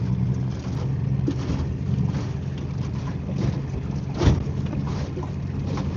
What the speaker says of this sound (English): We're gonna bump the motor up here a little bit. We're going into the wind now.